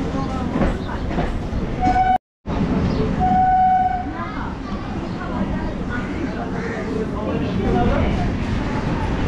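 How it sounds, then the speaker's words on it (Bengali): A Kolkata local train on the Majerhat–Barasat line runs steadily with a continuous rumble and rattling wheels, a brief dropout near the start, and a short horn-like tone; a voice talks over it. "বন্ধুরা বড়বাজার থেকে অলরেডি ট্রেন ছেড়ে দিয়েছে।"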